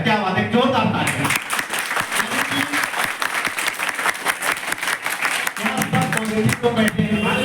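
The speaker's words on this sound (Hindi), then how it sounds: "क्या बात है, जोरदार तालियां।" Loud, dense applause from a seminar audience at a network marketing talk, with hand claps rattling steadily for several seconds while a voice speaks over the start and end.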